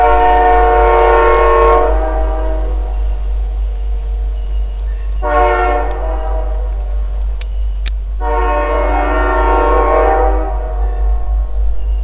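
A passing train sounds its horn in three long blasts over a constant low rumble, loud and fairly near, with a few sharp clicks between the blasts.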